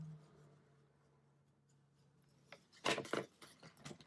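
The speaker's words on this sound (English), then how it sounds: "my scissors that just fell" A pair of scissors clatters onto a hard surface, a brief burst of light metallic knocks and rattles after a quiet stretch.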